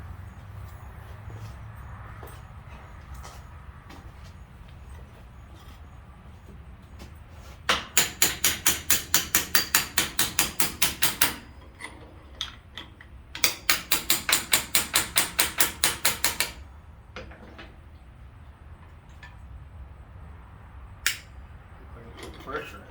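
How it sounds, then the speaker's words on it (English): Two long runs of rapid, evenly spaced ball peen hammer strikes on metal ring out during a Ford tractor ram rebuild, separated by a pause, with a few scattered taps before and after. "ball peen hammer."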